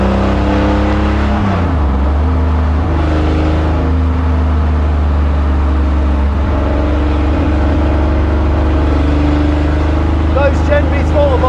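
A Porsche 917 recreation idles and revs nearby, its deep throbbing engine and exhaust note rising and dipping in pitch as the throttle is blipped, steady and loud throughout.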